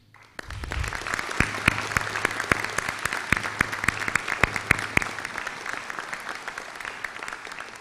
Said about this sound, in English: please join me in a round of applause for all of you